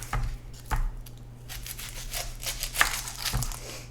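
Sharp knife chops on a board, chopping onion and bacon, a few irregular thuds with crinkly rustling between them, fairly close and quiet.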